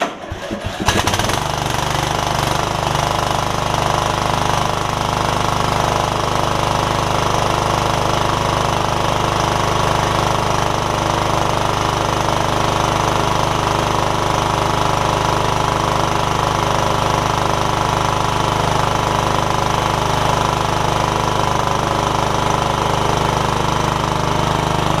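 After a brief cranking burst, the engine of an MTD Yard Machines riding mower catches and runs continuously, a loud, rough, steady mechanical clatter close by with no talking.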